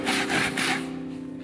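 Sandpaper rubs back and forth in the groove of a wooden pulley, a close, raspy scraping in two or three quick strokes before fading, with no talking.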